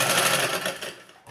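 A sewing machine stitches a lined suit garment in a steady, loud, close mechanical whir, slowing and fading near the end, with no talking.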